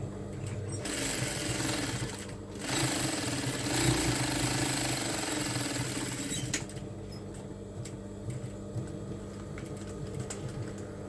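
A sewing machine top-stitching fabric, a fast continuous mechanical stitching rattle that runs steadily for several seconds, then stops, leaving faint clicks and room noise.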